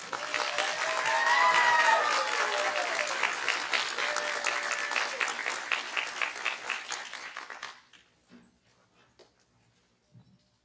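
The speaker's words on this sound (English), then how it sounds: "give them a round of applause" Audience applause at a graduation ceremony, a loud sustained crowd clapping that lasts about eight seconds and then cuts off, with a dog whimpering and yipping over it and a few faint sounds afterward.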